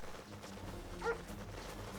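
An attack dog unit in the Command & Conquer Allied campaign lets out a single short bark midway, faint and brief against a low, steady game ambience.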